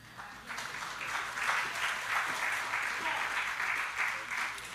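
Hand clapping from a church congregation swells in after a short lull and keeps up as a brisk, fairly loud wash of many hands with a faint rhythmic pulse, no one speaking over it.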